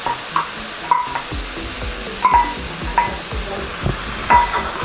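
Ginger garlic paste sizzles in a pan on low heat for mushroom masala, with a soft constant frying hiss broken by repeated close scraping stirs of a spoon.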